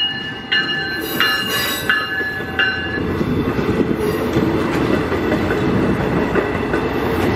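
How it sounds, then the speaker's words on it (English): A passenger train heading west rolls steadily past at close range, its wheels rumbling and clacking on the rails while several brief high squeals ring out near the start, then fade into a continuous roar. "Yep, it's just another train coming, that's all."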